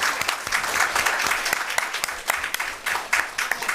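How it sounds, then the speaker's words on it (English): Audience at a joint budget subcommittee hearing breaking into applause, a dense burst of many hands clapping at close range with some irregular louder claps. "That was an extra round of applause for Ruth Ann."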